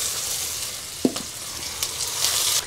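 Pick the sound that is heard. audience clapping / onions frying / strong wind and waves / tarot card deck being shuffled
onions frying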